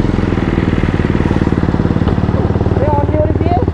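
Motorcycle engine idling steadily up close on a solo ride setting out from Amritsar, a loud continuous rumble with rhythmic pulsing throughout, while a person talks over it.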